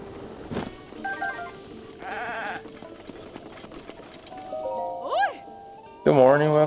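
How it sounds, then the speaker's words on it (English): White goats bleat at Tabantha Bridge Stable in Zelda: Breath of the Wild, several short wavering calls toward the end, the last one loud and close, over quiet game ambience with a voice talking at times. "home of the cutest white goats of Alharu"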